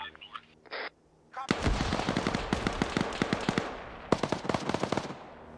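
A heavy gun in a video game fires rapid close bursts of sharp shots, a long sustained string followed by a shorter volley, after brief quieter game sounds at the start.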